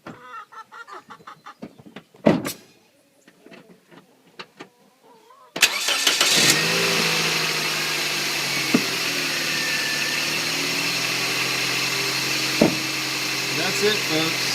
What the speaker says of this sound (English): you guys can hear right in the engine bay the sound of the car starting